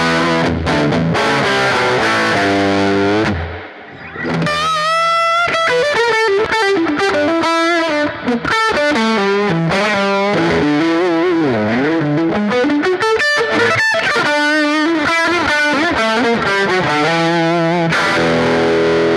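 Electric guitar played through a dimed Marshall-style amp turned up full, heavily distorted and saturated, with sustained chords and bending melodic lines, a brief drop in level midway, then continuing loud and alone.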